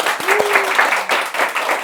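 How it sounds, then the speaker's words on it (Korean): Applause from an audience welcoming newly arrived trainees (101st class) at a lecture hall, brief dense clapping, fairly loud, with a faint voice tone passing underneath. "박수 한번 쳐주십시오."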